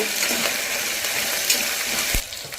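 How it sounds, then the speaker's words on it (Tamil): Onions and curry leaves sizzle and crackle steadily in a hot pan, a dense frying hiss with occasional clinks of a utensil. "வெங்காயம் நல்லா வதக்கிக்கலாங்க."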